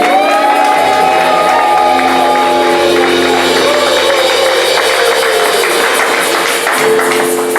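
A church congregation at a night vigil shouting and cheering with joy, loud and continuous crowd noise with whoops and sustained tones running beneath.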